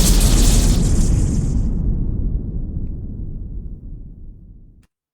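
Synthesized explosion sound effect built with the Phaseplant and Snap Heap synths: a loud, bright initial blast that decays into a long, rumbling low tail, then cuts off after about five seconds.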